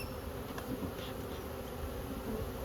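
Honey bees buzz in a steady, dense drone around an open beehive being moved from home, a close continuous hum without pause or talk.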